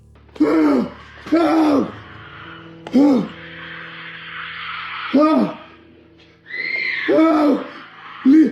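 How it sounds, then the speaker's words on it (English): A voice screams and cries out in agony again and again, loud drawn-out wails separated by short gaps, close and raw. "extremely loud screams filled with pain can be heard from the next room"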